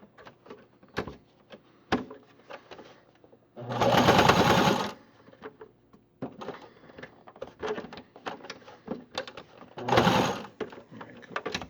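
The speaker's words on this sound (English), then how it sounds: "It seems like it sews a little easier from that side." A domestic sewing machine stitches a fabric face mask in two sustained bursts, the first about two seconds long and the second shorter, with quiet handling clicks and fabric rustling between them.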